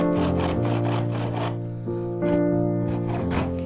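Hand rasp filing wood while shaping parts of a wooden frame saw, rapid repeated rough scraping strokes, loud and close, in a steady back-and-forth rhythm with a brief pause midway.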